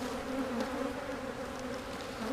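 Honeybees at an opened hive, giving a dense, continuous droning buzz close by, steady and even throughout with no gaps.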